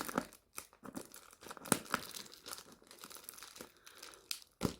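Close, quiet crinkling and ripping of a sellotaped parcel being torn open by hand, with irregular tearing bursts and rustles of plastic or tape.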